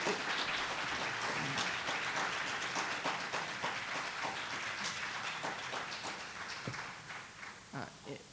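An audience at a public air-quality board meeting applauds in a dense, sustained burst of clapping that runs the whole stretch and fades slightly at the end, heard from a distance in a large room.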